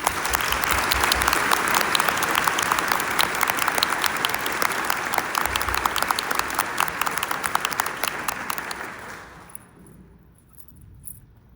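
Sustained audience applause fills a conference hall at an organ procurement organization event as a heart transplant recipient joins the stage, dense and steady before fading out near the end.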